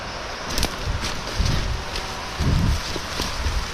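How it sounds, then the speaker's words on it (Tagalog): Heavy rain falls during a harvest outing, a steady broadband hiss with gusty low rumbles that swell around the middle of the stretch, close and fairly loud, with no talking. "Malakas na ulan."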